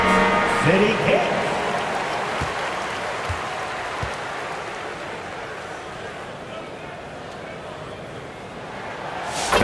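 In an NBA arena during a Minnesota Timberwolves versus New York Knicks game, the crowd applauds the Knicks City Kids, a broad wash of clapping and noise that swells early, fades, then surges again at the end.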